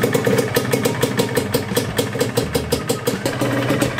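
A Yamaha DT125 two-stroke motorcycle engine idles with a steady, rapid pulsing putter, close and loud, repeating evenly throughout with no talk over it.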